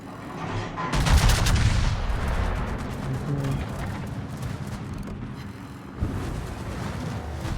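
Battleship secondary guns fire in World of Warships, Massachusetts in play: dense, rapid rolling gunfire and booming blasts keep going without a break, loud and close throughout, with one sharper report near the end.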